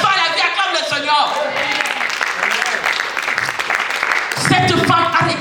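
Church congregation applauding and cheering in praise of the Lord, a continuous wash of clapping and voices, loud and close, with a singing or shouting voice rising near the end.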